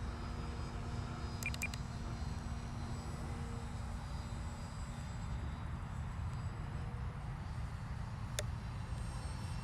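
An FT Freedom Fox V2 RC plane motor held at half throttle, a steady continuous drone that stays even and moderately loud throughout, heard without talk.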